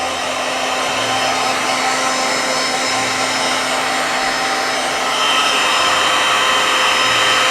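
A handheld hair dryer blows a steady, loud airy whoosh with a constant motor whine as it dries ink on a crafting project, the tone shifting slightly partway through as it moves.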